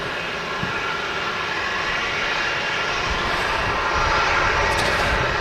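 A Saudi Boeing 787-10 airliner taxiing at Manchester Airport gives a steady, broad engine roar with a low rumble, continuous and fairly loud at mid-distance, with no voices over it.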